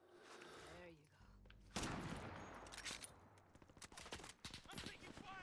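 Bursts of automatic gunfire and single shots crackle through a Modern Warfare 2 Remastered firefight, arriving in rapid, uneven clusters that grow denser toward the end, while a voice speaks over the opening.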